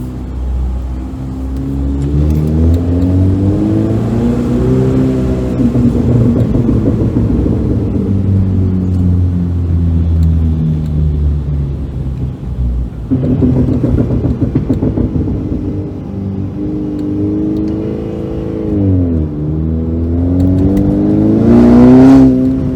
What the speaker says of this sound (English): Let me see if I can get y'all some pops here in the secret parking garage